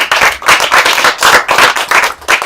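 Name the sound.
applause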